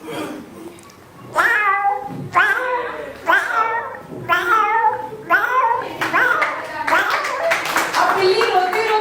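A voice imitates a sad, crying cat, giving a run of about seven drawn-out, wavering meows close to the listener, with some clapping and brief talk between them.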